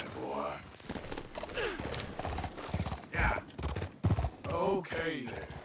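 Horse galloping in the Red Dead Redemption 2 video game, clip-clop hoofbeats running under near-continuous talk with game sounds mixed in.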